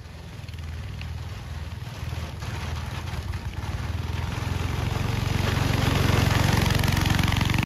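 A junkyard go-kart engine runs continuously, with a throbbing mid-pitched putter that stays close and steady and builds slightly louder toward the end, with no voices.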